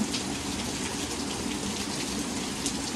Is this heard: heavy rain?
yes